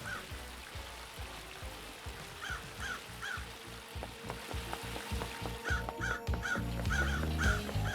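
Crows caw in the video game Paradise Killer, several harsh calls in short groups over a crackling, sizzling ambient bed and low rhythmic thumps, the cawing growing busier and overlapping toward the end.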